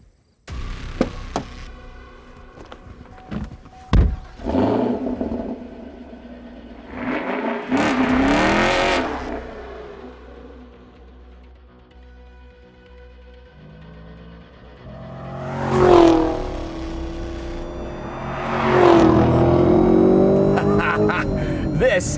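A Chevrolet Camaro SS 1LE track car with a manual transmission revs and accelerates hard, its engine note rising and falling through several loud surges with mechanical clunks between them, heard up close from inside the car.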